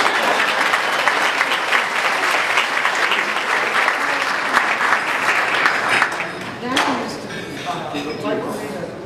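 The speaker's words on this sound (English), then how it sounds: "Please applaud for my sister Joan." An audience at a juke joint event breaks into sustained applause, clapping strongly before easing off near the end as a voice begins speaking.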